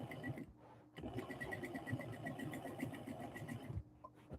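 A sewing machine sews around a decorative pillowcase cover in one continuous, fairly quiet stitching run, with a brief stop near the start and at the end.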